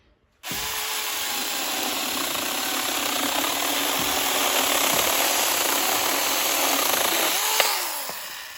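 A MirSON MS-0123 24 V cordless mini chainsaw runs steadily and loudly for several seconds, its high whine shifting slightly as it cuts, then winds down near the end.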